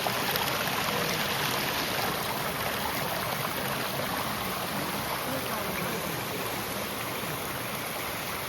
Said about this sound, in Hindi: अभी मैं वाटरफॉल के पास आपको लेके चलता हूँ और दिखाता हूँ कितना सुंदर है